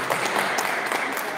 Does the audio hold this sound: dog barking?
no